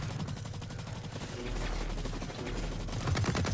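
Light machine gun firing in Blacklight: Retribution on PS4, a dense stream of rapid shots that runs throughout, loud and close, with a heavier burst near the end.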